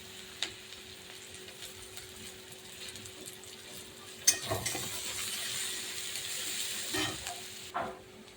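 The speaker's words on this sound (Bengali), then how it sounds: "নেড়ে চেড়ে একটু পেঁয়াজ রসুনটা একটু ভাজা ভাজা হবে" Chopped onion and garlic fry in oil in a pan as a spatula stirs them, giving a low steady sizzle with scraping clicks that grows louder and busier in the second half; no one speaks.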